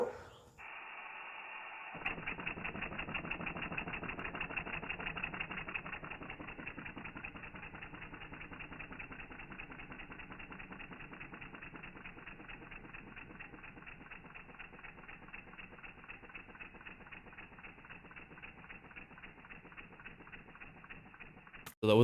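Lego inline two-cylinder pneumatic engine on a test run at 48 psi, a fast, even mechanical chatter of rapid ticks that starts abruptly and holds steady, then gradually slows and softens, fairly quiet and close.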